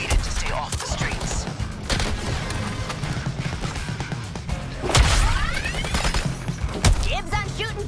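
Gunfire in the video game Suicide Squad Kill the Justice League, a dense mix of shots, impacts and crashing effects over a busy game soundscape, with sharp bursts near the five- and seven-second marks.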